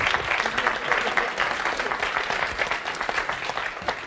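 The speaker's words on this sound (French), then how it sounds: "on peut l'applaudir" A theatre audience claps steadily for a revue leader, a loud, dense burst of applause that fills the whole moment without letting up.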